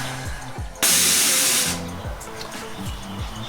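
Air suspension on a 1999 Mazda Miata MX-5, with a compressor, 5-gallon tank and Airlift management, lets out a sudden loud hiss of air as it rises, fading over about a second against a background hum.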